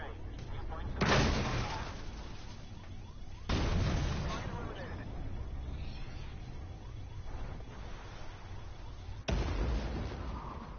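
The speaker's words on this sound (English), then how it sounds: "he sniped me with his ATGM" Armored Warfare tank combat in which an ATGM guided missile hits, heard as heavy booming blasts, one early, one near the middle and one late, each followed by a rumbling tail, under steady engine noise and game talk.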